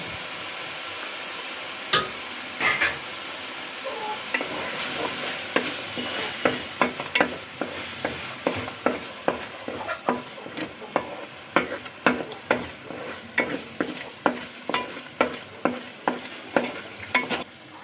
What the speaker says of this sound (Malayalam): ഇനി ഇതിലേക്ക് അരച്ചു വെച്ചിരിക്കുന്ന തക്കാളി കൂടെ ചേർത്ത് കൊടുക്കാമേ